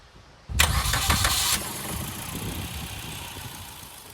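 A 2014 Maruti Swift VXI petrol car with 53,000 km starts up close by: a brief starter crank catches within about a second, then the engine settles into a steady idle.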